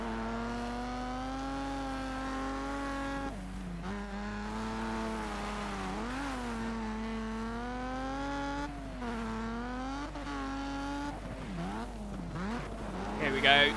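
A rally car races in the video game Colin McRae Dirt 2, its engine droning and rising and falling in pitch as it revs through gears and corners, steady and continuous throughout.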